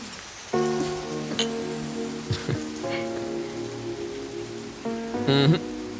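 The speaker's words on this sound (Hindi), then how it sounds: "बरसात शुरू।" Steady rain falls in a continuous hiss, while tonal music and sound effects from an action film scene play over it with a few sharp hits.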